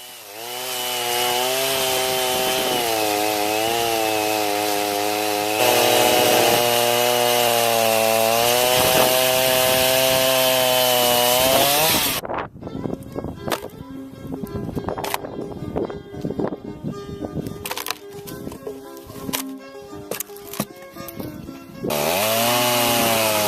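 Chainsaw trimming the bow and stern of a wooden canoe, a loud close whining drone that shifts pitch as it cuts, breaking into irregular chopping bursts midway before the steady roar returns.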